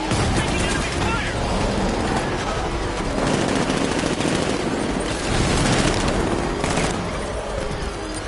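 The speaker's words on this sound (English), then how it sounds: "Taking enemy fire." Sustained automatic gunfire with booms and bursts in the Batman: Arkham Knight video game, a loud, dense barrage running continuously throughout with little letup.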